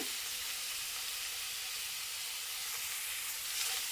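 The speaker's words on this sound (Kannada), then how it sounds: "ಮೀಡಿಯಮ್ ಫ್ಲೇಮ್ ಇಟ್ಕೊಂಡು ಚೆನ್ನಾಗಿ ಫ್ರೈ ಮಾಡ್ಕೋಬೇಕು." Asafoetida tempering for palak dal frying in hot oil over a medium flame, a steady soft sizzle with a faint crackle, even and close throughout.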